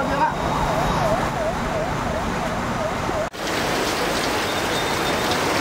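Heavy rain pouring steadily during flooding, a dense constant hiss with a wavering siren in the distance and a brief dropout partway through.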